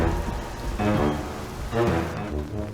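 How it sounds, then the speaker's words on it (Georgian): Cartoon rain begins at a forest camping spot, a broad steady patter of drops washing in and swelling in waves, fairly loud and close, with no voices over it. "წვიმაც იწყება."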